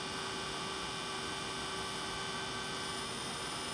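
A heat embossing tool blows hot air over embossing powder on a handmade card, a constant steady whirring drone with a humming tone, close and unbroken throughout.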